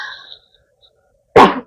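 A young woman with a swollen, sore throat gives one sharp, close cough in a roleplay setting, coming after soft murmuring and a stretch of near silence.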